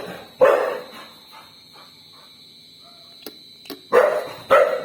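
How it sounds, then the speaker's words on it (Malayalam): A dog barks at night near a road, with one loud burst early and two more close together near the end. A quiet, nearly silent stretch separates them, with a couple of faint clicks. "റോഡിൽ കൂടെ ഒരു പട്ടി പോയനാ."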